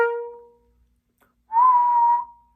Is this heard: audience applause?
no